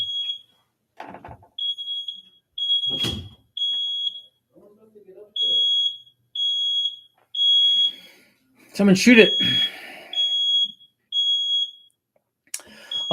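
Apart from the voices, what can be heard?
smoke alarm beeping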